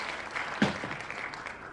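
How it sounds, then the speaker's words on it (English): Scattered applause from a group during a virtual skippers meeting, a soft continuous patter of clapping with one sharper burst partway through, heard faintly and somewhat distant over a remote connection. "Can you guys hear the clapping even that's happening?"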